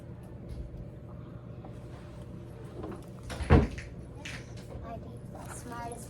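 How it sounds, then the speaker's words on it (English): A door is shut in a classroom, giving one brief, solid thud midway through a quiet room with faint background murmur and some speech. "Mr. Hunter, can you close the door for us real quick?"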